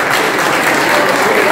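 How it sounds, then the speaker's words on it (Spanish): Audience applause at a kayak clinic held at a fishing club: dense, steady clapping from a crowd, loud and close, filling the whole short stretch without a break. "otro aplauso para Mónica"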